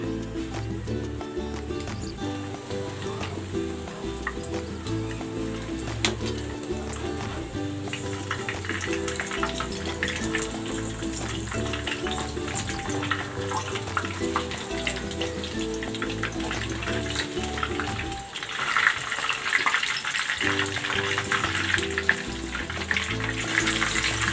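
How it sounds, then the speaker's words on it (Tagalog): Breaded food deep frying in hot cooking oil, a steady close sizzle and bubbling that runs throughout over a looping background music track. "Pwede na natin itong iprito. Mainit na yung mantika. Isasalang ko na ito."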